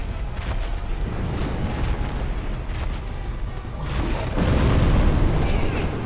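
Heavy booming explosions rumble continuously with deep, loud bursts, growing stronger toward the end amid dense game effects, during the Demon Firesage boss fight in Dark Souls.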